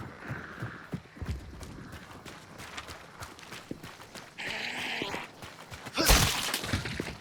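Horses in the video game Hunt: Showdown 1896 clip-clop with an irregular run of hoof thuds, followed by a brief whinny-like cry and a louder burst of movement near the end.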